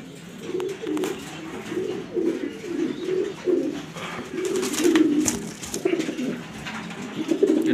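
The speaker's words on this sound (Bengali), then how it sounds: "এটা মাদি কবুতর," Pigeons at a loft in Mirpur, Dhaka, with a female and male bird, give repeated low cooing phrases throughout, close and steady, with faint rustling and background noise.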